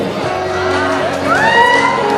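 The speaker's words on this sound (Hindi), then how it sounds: "जरा जोरदार तालियां बजाइए।" Students cheer, whoop and shout as a crowd at the closing night of a college cultural festival, a dense, loud swell of voices that builds toward the end.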